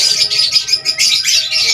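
An Indian ringneck parakeet in an aviary gives loud, shrill repeated calls in quick bursts, very close and clear, with no talking.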